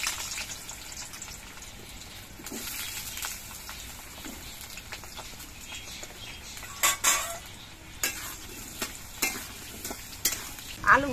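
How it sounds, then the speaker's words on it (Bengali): Potatoes fry in hot mustard oil in a wok, a steady close sizzle with intermittent stirring clanks growing sharper toward the end, no speech. "প্রথমে আমি আলুগুলো ভেজে নিচ্ছি।"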